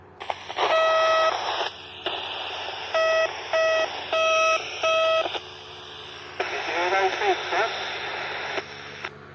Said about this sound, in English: I'm going to beep, see if you can hear it.